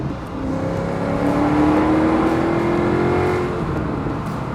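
A Maserati's naturally aspirated 4.7-litre V8 revs loud and close, its tone rising and holding steady for several seconds before easing off, with no talking over it.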